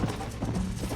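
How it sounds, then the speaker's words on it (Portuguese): Hooves pound in a fast gallop rhythm from a horse in the Red Dead Redemption video game, close and loud, with a brief faint whinny mixed in. "Agora o cavalo manda-me para o chão!"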